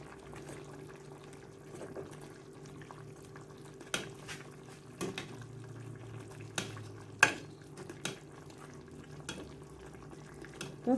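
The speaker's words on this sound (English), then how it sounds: "I am going to spoon the sauce over the fish" A spoon scrapes and clinks against a pot as stew sauce is ladled over fish in brown stew, with soft liquid sounds and occasional sharp metal taps over a low background hum.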